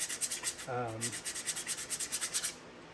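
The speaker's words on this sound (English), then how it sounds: "I'll brush it top to bottom, side to side, diagonal" Brush strokes scrubbing a figured black walnut turning on a lathe, a rapid rhythmic scratchy swishing, close and fairly quiet, with a brief low hum partway through.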